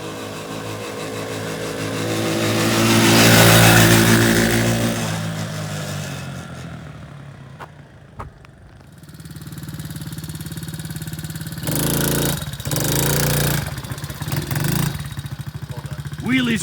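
A Tao Tao Cheetah 125cc kid-size ATV engine revs hard during wheelies, rising to a loud buzzing peak, easing off, then sputtering back up in rough bursts near the listener.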